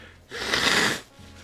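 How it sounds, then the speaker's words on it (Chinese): A livestreamer blows their nose once, a short, close, breathy burst of air lasting under a second in a quiet room. "到底是为什么会喜欢听主播擤鼻涕啊？"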